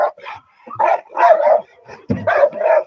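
A protection dog barks in bite training against a man with a sleeve, a quick run of sharp, close barks and yips in short bursts with brief gaps between them.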